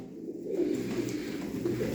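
Pigeons coo softly in low, murmuring tones against a steady background hum, close by and continuous.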